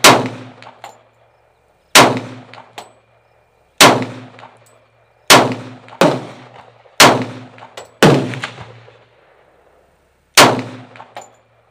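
An H&R M1 Garand rifle fires seven spaced shots at steel targets, each a sharp loud crack followed by a ringing metallic clang that decays over about a second, outdoors and close.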